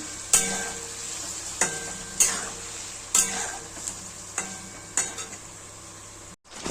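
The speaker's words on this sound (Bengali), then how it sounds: "আমার পনিরটা ভাজা হয়ে আসছে বন্ধুরা" Paneer frying in oil in a pan, a steady close sizzle with a handful of sharp spatula scrapes and knocks recurring about every second or so, no speech.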